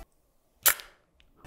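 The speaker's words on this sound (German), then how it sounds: "so eine alte Kamera, allein dieser Sound, der ist schon cool" Shutter release of an old analog film camera: a single sharp mechanical click-clack, close and crisp, set in near silence with a faint small click afterward.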